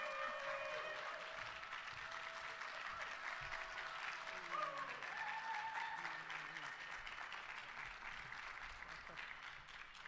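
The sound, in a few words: audience applause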